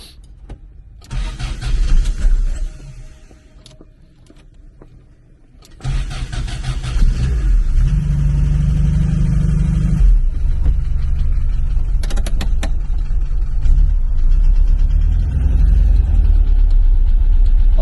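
A Porsche 914/4 flat-four engine cold-starts with a brief crank, stumbles, then catches and settles into a loud, steady idle that holds to the end, close and alone without talk.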